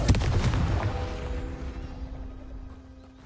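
Confringo fire spell in Hogwarts Legacy, a sharp fiery blast right at the start, followed by a booming rumble and a ringing tail that fades over about three seconds.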